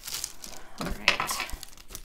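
Paper from an Amazon package is torn by hand for a junk journal: a quick, close crinkling rip lasting about a second, quiet and alone.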